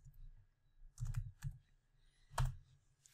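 Someone types a comment on a computer keyboard: short clusters of quick, light key clicks with brief pauses between bursts, close and fairly quiet.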